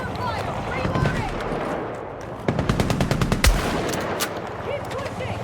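Rapid bursts of automatic gunfire and single shots crack out in a Battlefield 6 campaign night raid, dense and loud, with shouted voices mixed into the firefight.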